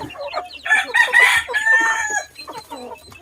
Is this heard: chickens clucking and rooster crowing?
yes